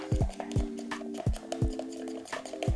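A stick clinks and scrapes against the sides of a container while fiberglass resin is mixed, giving a series of sharp, close ringing knocks at an uneven rhythm with soft scraping between them.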